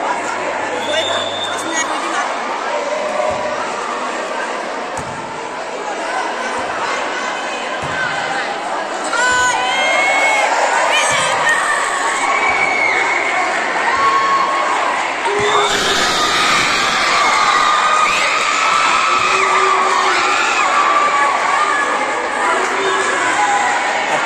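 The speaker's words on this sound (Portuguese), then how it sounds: "A torcida está animada, torcendo para o time de vermelho." An animated crowd at an interclass school sports match cheers and shouts continuously, with children's voices, chatter and occasional ball bounces, growing louder partway through.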